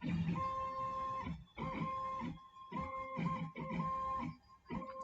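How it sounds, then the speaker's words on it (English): A MillRight CNC router traces the outline of a finger tenon piece, its stepper motors whining in steady tonal bursts that pause briefly between moves, loud and close with no talk. "Now the machine is following the outline of the first finger tenon piece that was loaded with that program."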